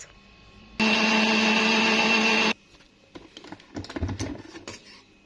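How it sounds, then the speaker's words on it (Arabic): A blender whirs loudly and steadily for about two seconds blending fruit juice with lemon, then stops, followed by clinking and rustling kitchen handling sounds. "هضرب بقى كل المكونات مع بعض"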